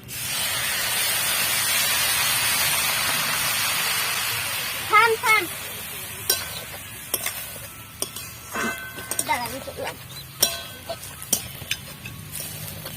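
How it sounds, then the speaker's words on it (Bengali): A little water poured into a hot pan of jeera rice sets off a loud, steady spray-like hiss that dies away over several seconds. Scattered clinks and light taps follow, with brief voice sounds mixed in. "তো এবার আমি এর মধ্যে দিয়ে দেব অল্প সামান্য জল"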